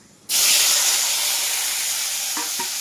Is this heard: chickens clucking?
no